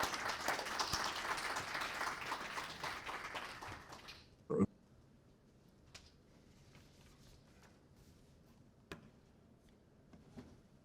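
An audience applauds a guest lecturer, Klaus, at an international arbitration lecture. Dense clapping fills the room for about four seconds, then fades into quiet with a single sharp knock and faint scattered sounds.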